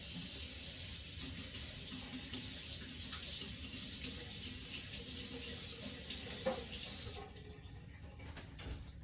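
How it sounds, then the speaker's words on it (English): A kitchen tap runs in a steady hiss while a garlic-covered knife is rinsed under the stream, then the flow stops near the end, leaving quieter kitchen sounds. "I'm gonna rinse my knife because there's a bunch of garlic stuck to it."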